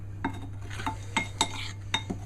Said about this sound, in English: stir it around halfway around the bowl and cut it through like that